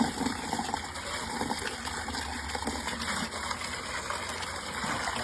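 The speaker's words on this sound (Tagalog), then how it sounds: "Lagyan natin ng tubig." Water poured over fish scraps and guts in a container to make fertilizer: a steady, moderately faint gushing splash that runs without a break for several seconds, with no talk over it.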